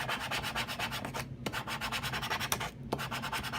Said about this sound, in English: apply your transfer tape and burnish and then peel it